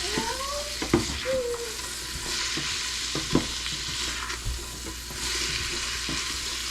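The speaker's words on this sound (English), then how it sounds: "So we've been sauteing now for about 4 minutes." Vegetables for potato soup saute in a pan with a steady, moderately loud sizzle, joined by occasional knocks and scrapes of stirring and a brief tonal squeak near the start, with no talking.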